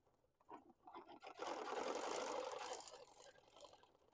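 Sewing machine doing free motion quilting of a wishbone design, heard as a steady rapid stitching hum that speeds up and holds for about a second before slowing, faint and alone with no talking.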